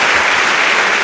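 A church congregation claps together during a Portuguese-language worship service, a dense, steady burst of applause that fills the whole moment without any break.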